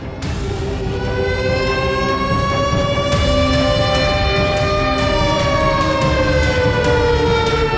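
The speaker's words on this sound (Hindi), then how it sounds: "ये सायरन की आवाज सब ठीक है ना?" A loud, steady wailing siren with rising and falling tones, continuous throughout and heard alone.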